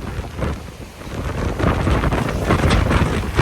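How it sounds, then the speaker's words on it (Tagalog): Strong wind buffets the microphone on the Chocolate Hills view deck in Bohol, a loud rumbling gusty roar that builds and stays heavy, with no speech. "sobrang hangin po dito sa taas po ng Chocolate Hills"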